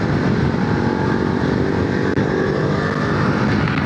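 Voge motorcycle engine pulling hard on a test ride, a loud sustained roar with wind rush that stays strong and even across the few seconds.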